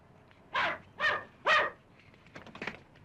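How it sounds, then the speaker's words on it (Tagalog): A poodle barks three times in quick succession, fairly close, followed by a few softer, quieter yaps. "Yung poodle ko!"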